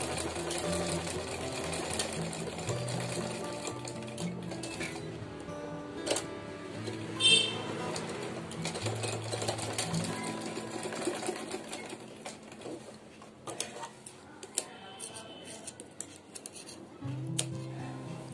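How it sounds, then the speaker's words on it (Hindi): A sewing machine runs in steady bursts as it stitches a small gathered mini skirt for a doll at home, its motor whirring continuously with brief pauses and changes in pace, close and fairly loud with no talk over it. "तो फ्रेंड्स, अब हम इस पे ऐसे सिलाई लगा लेंगे।"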